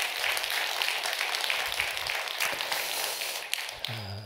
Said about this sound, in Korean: 고마운 마음을 담아서 우리 박수 한번 하겠습니다.